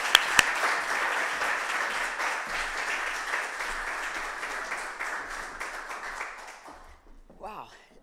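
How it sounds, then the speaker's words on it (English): Applause for a keynote speaker at a virtual awards ceremony, steady and fairly loud clapping from a crowd that gradually thins and fades out over several seconds. "So please welcome and applaud at home for our keynote speaker, Ms. Heather Quill."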